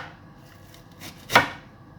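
A knife comes down once on white onion being finely chopped for tabbouleh salad, a single crisp, close strike on a cutting board in an otherwise quiet moment.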